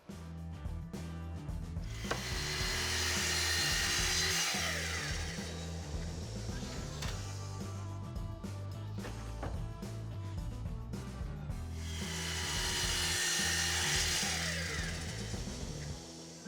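Saw cutting wooden boards in a workshop: two long rasping cuts swelling and fading, with a steady machine drone and clunks between passes.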